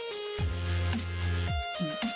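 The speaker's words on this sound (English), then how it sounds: "you'll get a phone call that is repeated and repeated and repeated" A phone rings in the Five Golden Nights at Freddy's video game, a loud electronic ringtone with repeating tones that drops out partway and then returns.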